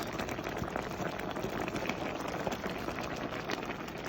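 Tomatoes, garlic and onion simmering in a pot for homemade ketchup, a quiet continuous bubbling and popping with no talk.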